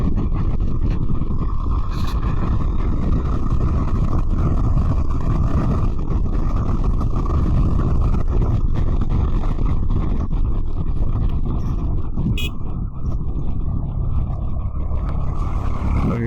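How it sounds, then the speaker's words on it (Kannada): A tractor passing on a road in Karnataka, heard from a moving vehicle, as a steady loud low engine rumble and road noise that holds throughout with no speech. "ಟ್ರ್ಯಾಕ್ಟರ್"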